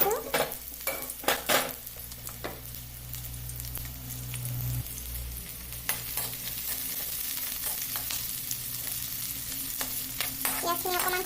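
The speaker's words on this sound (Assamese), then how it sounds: "তেলত মই এতিয়া এই কাটি থৈ দিয়া পিঁয়াজ এটা আৰু জলকীয়া 3টা দি দিছোঁ" Sliced onion and three chillies sizzle in hot oil, a steady frying hiss with bursts of stirring and utensil clatter near the start, no talking.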